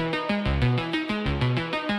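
A bit-crushed synth intro plays a bright, buzzy, harmonically rich line in quick stepped notes, repeating in a steady rhythmic pattern. It sounds loud and close, with no voices.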